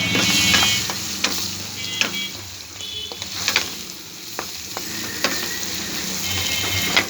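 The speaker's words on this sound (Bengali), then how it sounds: "লাল মরিচের গুঁড়ো, হলুদের গুঁড়ো, জিরার গুঁড়ো এবং স্বাদমতো লবণ দিয়ে আলুগুলোকে আরেকটু কষিয়ে নেব।" Potatoes frying with red chili powder, turmeric, cumin powder and salt for a fish and vegetable curry, a continuous close sizzle with irregular spatula scrapes and clinks against the pan, no one speaking.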